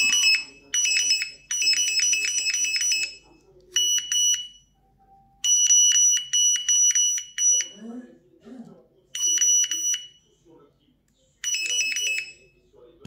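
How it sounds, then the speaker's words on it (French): A repaired Lixada detector beeps in rapid electronic bursts, loud and near, with pauses between the bursts and some faint background noise in the quiet gaps. "Voilà un détecteur réparé."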